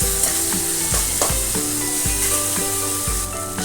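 Spices for a jackfruit curry sizzle loudly in hot oil, with a spoon scraping and stirring the pan in steady strokes, close and continuous, and no talking.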